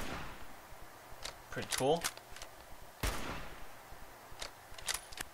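Orsis F17 sniper rifle in a Fallout 4 mod fires a few separate sharp cracks, with mechanical sliding handling noises between shots, and someone briefly speaks.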